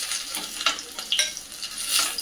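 Paneer pieces frying in a little oil in a small tadka pan, a soft crackling sizzle with a few louder pops as the pieces are stirred, fairly quiet and close.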